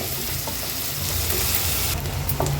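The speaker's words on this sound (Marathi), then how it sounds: "नंतर हा बारीक चिरलेला जो कांदा आहे तो ॲड करणार आहोत तेलावर" Finely chopped onion frying in oil for dhaba-style chicken masala, a steady crackling sizzle with a few light stirring taps, close and consistent.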